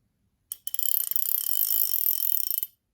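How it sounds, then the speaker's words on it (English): The drag clicker of a Fin-nor 5500 spinning fishing reel ratchets in a rapid, close, continuous run of sharp clicks for about two seconds before stopping, with no voices. "One thing about this Fenor 5500 is the drag clicker."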